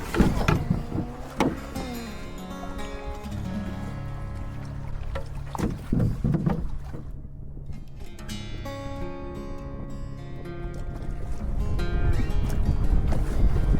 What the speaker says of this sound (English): Assuming this is Russell Rapids.